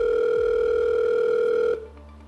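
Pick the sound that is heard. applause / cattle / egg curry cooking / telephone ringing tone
telephone ringing tone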